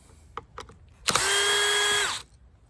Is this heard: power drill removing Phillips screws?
yes